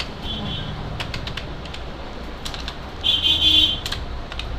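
Scattered keystrokes on a computer keyboard during data entry into billing software, light irregular clicks at close range over a steady background hiss, with a short electronic tone sounding near the end.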